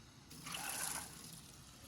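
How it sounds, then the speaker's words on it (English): Water poured over dried black soybeans and kidney beans before cooking, a brief soft gush that swells and fades over about a second, quiet and close with no voices. "For every 1 cup of dried beans, you're gonna add 3 cups of water."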